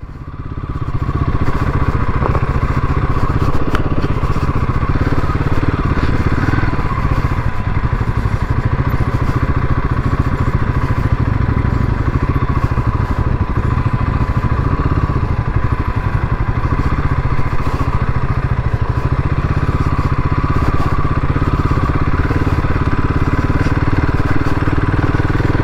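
Motorcycles on a Republic Day group ride to Dhemaji Dimow rumble close and loud for nearly half a minute, a steady engine drone with clattering mechanical texture and no talk.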